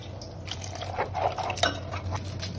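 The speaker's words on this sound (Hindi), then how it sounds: "हम और थोड़ा पानी ऐड कर देते हैं उसमें।" Water is poured and stirred into a gobi 65 batter paste, giving soft wet drips and squishy mixing sounds with light clinks of a bowl and utensil, close and moderately quiet.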